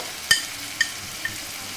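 Mutton and spices sautéing in a pan for a Bengali doi roast, with a few sharp stirring scrapes and hisses at a steady gentle pace, close by and fairly clear, without talk.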